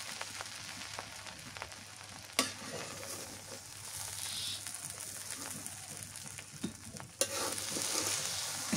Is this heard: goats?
no